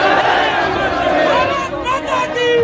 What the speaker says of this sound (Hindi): पाकिस्तान मुर्दाबाद के नारे लगे